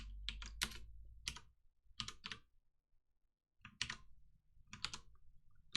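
Someone types code on a computer keyboard, with quiet, close keystrokes falling in quick clusters separated by short pauses.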